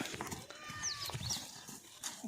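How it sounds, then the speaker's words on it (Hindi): A powerful pure-bred Marwari horse with three white legs, trained in Kutch, is heard in a quiet outdoor setting: soft hoof knocks and shuffling, with faint chirping bird calls in the background. "प्योर मारवाड़ी नस्ल का घोड़ा है।"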